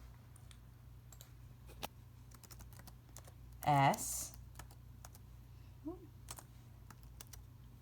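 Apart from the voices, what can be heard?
typing on a phone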